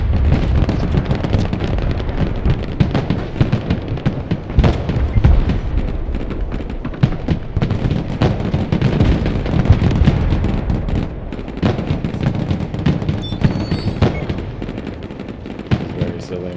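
Grenade launcher rounds and gunfire burst repeatedly in the strategy game Broken Arrow, a loud, relentless stream of thumping explosions and rattling shots with rapid irregular rhythm throughout.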